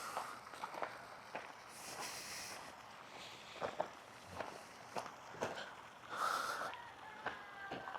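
Farm chickens cluck and squawk on a Sunday morning among footsteps and scuffling in the yard, with short bird calls scattered through the clip and a louder burst near the end.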